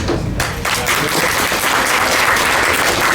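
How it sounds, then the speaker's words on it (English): An audience at an anime convention voice-actor idol contest applauds the contestants, a loud, steady wash of clapping that follows a brief voice at the very start. "Let's give another round of applause for our contestants who all knocked it out of the park today"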